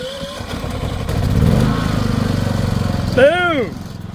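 A small engine runs with a steady, rough rumble, like a portable generator, while a voice talks over it; a brief whistle-like tone rises near the end.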